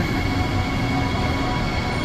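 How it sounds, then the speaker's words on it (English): Transperth Yanchep-bound six-car electric train at Joondalup station, a loud, steady broadband rumble and rush of rolling stock with no breaks and no talk. "We have the Yanchep bound train"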